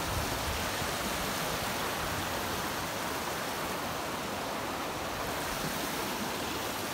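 Water flows steadily in a stream near a bridge outside Brasília, a dense, continuous rushing wash heard close and alone, with no voices over it.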